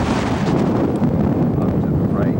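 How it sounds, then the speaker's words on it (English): Wind gusts at the top of a Roman amphitheater in Israel, rumbling loudly and continuously against the microphone, with faint background sounds mixed in. "It's a little bit windy up here"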